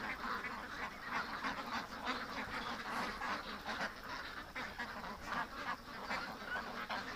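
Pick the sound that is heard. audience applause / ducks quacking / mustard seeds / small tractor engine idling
ducks quacking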